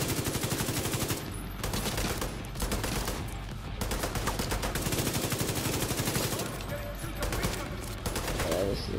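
Sustained automatic gunfire rattles in the shooter game The Division 2, dense, rapid bursts that keep going almost without pause, with faint voices underneath.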